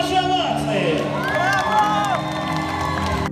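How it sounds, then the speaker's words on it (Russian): An audience gives an ovation with cheers and whoops for a Crimean Tatar folk ensemble, with applause and crowd noise mixed with sustained musical tones and vocal shouts throughout. "Конечно же, ваши овации!"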